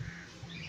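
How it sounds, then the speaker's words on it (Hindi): A quail screeches during a fight with a cat, brief squawking calls over a faint background hum, close but not loud. "चीख रही है कोयल, बहुत तेज़ तेज़ चीखती है।"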